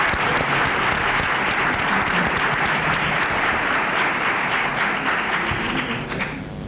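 A lecture-hall audience applauds to welcome a professor giving an inaugural lecture at a 1993/94 academic year opening, dense steady clapping filling the room and tapering off at the end.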